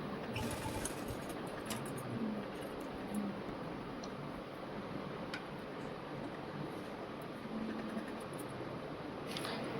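A sewing machine stitches blouse cloth with a steady, continuous whir that runs unbroken at an even level throughout, close by and with no talking.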